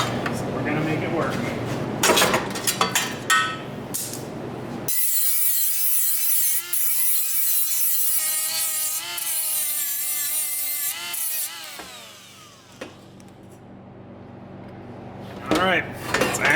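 A grinder cuts into a Subaru car part, its high, steady whine lasting several seconds and shifting as the tool bites into the metal, with louder clatter and handling noise before and after.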